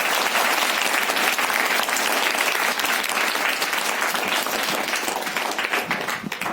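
A large indoor audience gives a sustained, dense burst of thunderous applause at a gathering for a drug-free India campaign, loud and steady throughout before thinning slightly at the end.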